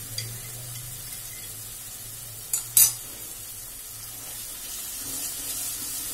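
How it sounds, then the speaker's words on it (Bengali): Spicy tomato gravy for egg curry is sizzling and being stirred in a pan, with small splashes of water added bit by bit. A low, steady fry hiss runs throughout, broken by two sharp clinks of the spoon near the middle. "ক্রমাগত আমি একটু একটু করে জল দিচ্ছি আর কষছি।"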